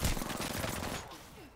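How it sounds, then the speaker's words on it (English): Rapid bursts of gunfire from a PUBG match crackle close and loud, then fade into a quieter tail with a faint rising whine near the end. "I'm getting shot at"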